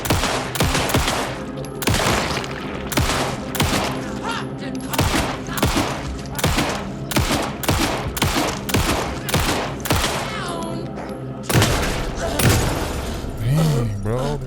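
Pistol gunshots in the video game Alan Wake 2, fired in a rapid, steady string of a dozen or more sharp cracks, with brief game effects between them and a short pause before a final burst.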